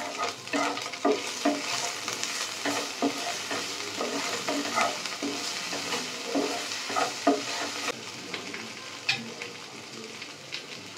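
Chops frying in a pan, a steady sizzle with frequent scraping and clinking as they are stirred, close and moderately loud throughout.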